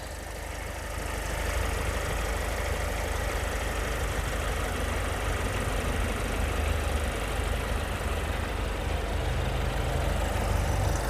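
A 2022 Kia Carens diesel engine idles with the bonnet open, giving a steady, close, even rumble with a faint knocking texture that runs unbroken for the whole stretch.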